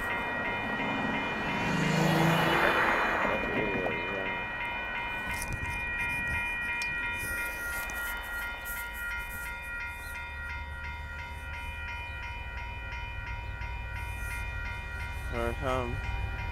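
Northbound Union Pacific mixed freight train passing the Dittmar Road crossing in Austin, Texas, with its horn sounding near the start and again near the end over a steady rumble of rolling railcars.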